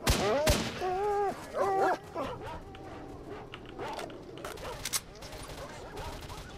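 Dogs yelping and barking in S.T.A.L.K.E.R. come in short repeated bursts at the start, then a few weaker yips follow beneath gunfire-like cracks and a busy game mix.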